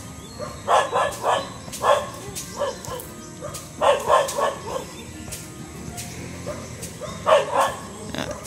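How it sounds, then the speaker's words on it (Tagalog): Several dogs bark outdoors around a house in clustered bursts of yips and barks that repeat every couple of seconds, fairly close, with faint voices in the background. "Ano pang mga aso dyan nagtatahulan"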